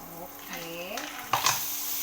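Something sizzles and is stirred in a hot pan before mussels go in, a steady frying hiss with a few scraping clatters near the end and a voice talking over it.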